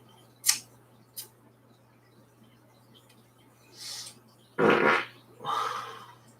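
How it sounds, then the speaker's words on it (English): A short, sharp fart, followed by a couple of brief rustling sounds and then a longer, louder flatulent burst trailing into a second spluttering release, all close and clear over a low steady hum with no talking. "Feeling a little gassy this morning."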